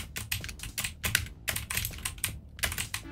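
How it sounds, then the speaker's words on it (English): Loud, clicky keyboard typing in quick irregular bursts of keystrokes, close up, with no one speaking. "Sorry if my keyboard's really loud"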